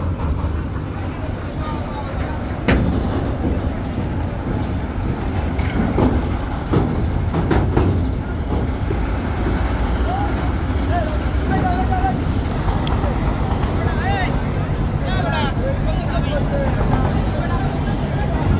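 Passenger launch MV Parabat 12 leaving the Barisal river ghat on a post-Eid return trip: a loud, steady engine rumble with busy crowd and ambient noise throughout, while a voice narrates over it.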